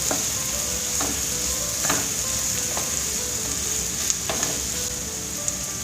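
An egg, potato and tomato mixture is stirred in a hot pan. A steady sizzle runs underneath, and a spatula scrapes and clicks now and then at an unhurried pace. Nobody speaks.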